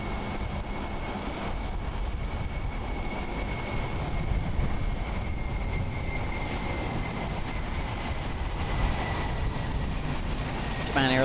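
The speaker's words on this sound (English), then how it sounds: "It's a Boeing 767-300ER, 12 years old." A Japan Airlines Boeing 767-300ER jet airliner, 12 years old, at Haneda Airport in Tokyo gives a steady, broad engine roar that holds at an even loudness throughout, with no voices.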